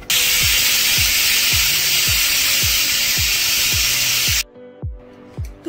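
A loud, steady steam hiss from a pressure cooker whistle cooking whole moong dal runs for several seconds then cuts off abruptly, over a repeating rhythmic thumping.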